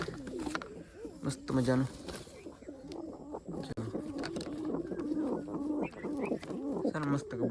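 Pigeons coo in soft, repeated throaty bursts close by, mixed with someone talking over them throughout.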